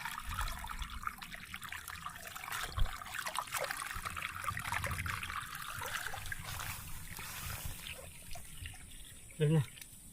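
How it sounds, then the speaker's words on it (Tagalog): Irrigation water flows and trickles steadily into a rice paddy, heard close and continuous with people talking over it outdoors. "Laki ng tubig naman dumating na no."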